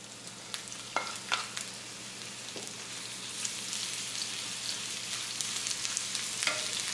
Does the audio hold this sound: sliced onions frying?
yes